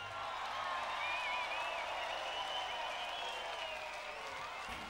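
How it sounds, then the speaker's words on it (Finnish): A concert crowd at a 2004 Finnish rock festival show applauds, a dense, steady wash of clapping and cheering that holds loud and even for several seconds before easing slightly at the end. "antakaa aplodit tässä vaiheessa itsellenne"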